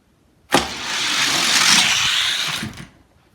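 A drag racing car launching down the strip at a bracket race, a sudden loud burst of engine roar and rushing noise that holds for about two seconds and then quickly fades away, with no talking.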